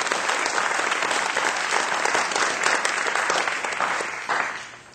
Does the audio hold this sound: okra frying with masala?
no